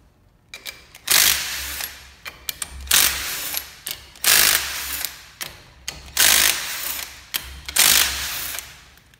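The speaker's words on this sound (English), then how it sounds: "Take a 13mm socket and take out the 5 pump bolts that hold it together." Socket ratchet backing out 13mm pump bolts on a 4L80e transmission at a workbench, close and clear: repeated bursts of rapid clicking separated by short pauses, with no talk.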